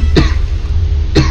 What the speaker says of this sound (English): what the hell am I coughing for?